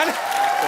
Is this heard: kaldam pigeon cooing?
no